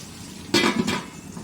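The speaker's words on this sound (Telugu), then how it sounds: "మూత పెట్టేసి మగ్గనిద్దామండి" A lid set down on a pot of prawn dum biryani, heard as a short close metallic clatter with a second lighter clink just after, against quiet kitchen background.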